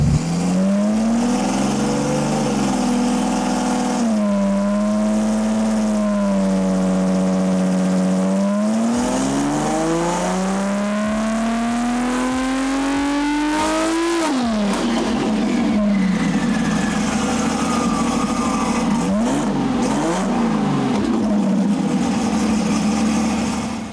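A drag race car engine holds steady revs against the trans brake, climbs through sweeping rises and dips, then drops back to a loud, rough idle; continuous, close and alone with no talk.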